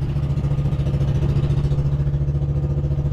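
A single engine on a small Philippine boat runs at a steady low rumble with a regular pulsing throb, loud and close, alone with no voices over it.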